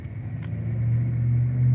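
A loud truck passes near a park, its low engine rumble swelling steadily from moderate to loud as it draws closer, heard outdoors without any talking.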